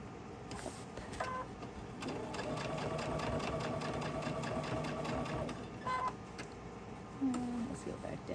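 Sewing machine stitching through a quilt, a fast steady mechanical chatter of needle strokes in a running burst of several seconds, with lighter clicks and a voice talking quietly around it.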